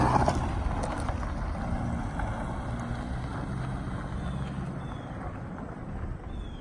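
A Toyota Echo drives slowly around a yard after a Seafoam fuel-system treatment, a steady engine rumble buffeted by wind noise, constant and fairly close throughout.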